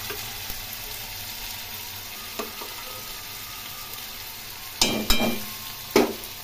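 Ginger and tomato paste frying in a pan keeps up a low sizzle, broken by a few sharp scraping stirs and louder bursts toward the end.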